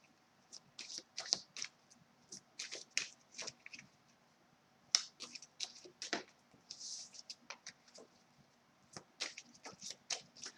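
Tarot cards being shuffled in short riffling bursts, repeated several times with brief pauses between, close and crisp in a quiet room.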